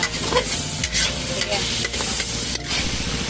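Pancit seasoned with salt and black pepper is stirred in a hot pan, giving loud, close scraping and tossing sounds in an irregular rhythm over a continuous sizzle.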